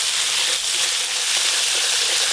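Spices sizzling in hot oil with slit green chillies, mustard and poppy seed paste, chilli and turmeric powder for a hilsa curry; a steady, close, loud frying hiss throughout, no talk.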